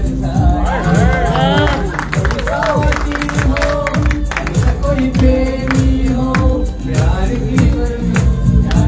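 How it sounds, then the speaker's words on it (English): Audience applause and cheering from a crowd at a Hindi song performance, a steady wash of clapping mixed with ongoing music and singing throughout. "You know, round of applause."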